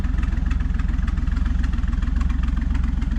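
The engine of an old Rambler car runs steadily with a fast, even low throb, loud and close, with no voices heard.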